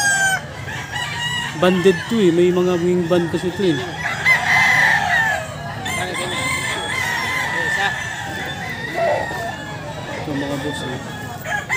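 Wing-banded Boston Roundhead roosters crow and cluck at an outdoor grotto pet market, the loud crows rising over someone talking close by and general market chatter.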